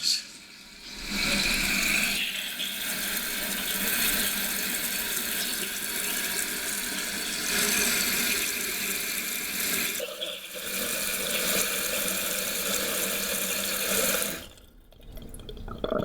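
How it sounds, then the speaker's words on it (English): Water steadily rushing into a toilet tank as it refills after the supply is turned back on, a continuous close hiss and gurgle that runs for about fourteen seconds before dropping off near the end. "we're just going to turn the water back on and make sure all is well"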